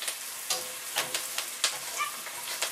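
Onions sautéing in a pan for keto taco meat, a soft, quiet sizzle broken by small irregular crackles and stirring taps, with no one talking.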